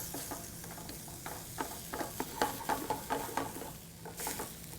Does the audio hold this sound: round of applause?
no